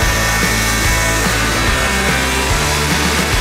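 Belt grinder with a 400 grit belt sanding a knife blade forged from an old horse rasp, a loud continuous motor whine and abrasive hiss with a few short pulses as the blade is pressed and lifted, no voices.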